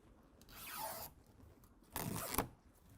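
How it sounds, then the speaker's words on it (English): Adhesive backing tape peeled off a Husky Liners low profile vent visor on a 2024 Ford Ranger, two quiet ripping strips in succession, close and soft. "now I can just go ahead and start peeling"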